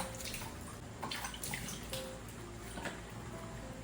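Water running into a large basin at a kitchen sink while vegetables are washed, a steady close splashing and trickling with small drips and gurgles, fairly quiet.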